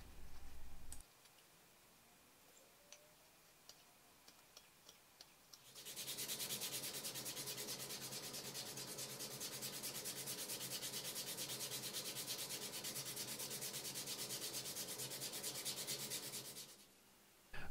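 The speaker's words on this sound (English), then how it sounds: "gonna use my belt sander to take care of those problem areas." A belt sander smooths a carved Crucian carp swimbait, running loud and steady for about ten seconds as a continuous abrasive whir, preceded by quiet ticks and light handling noises and ending abruptly.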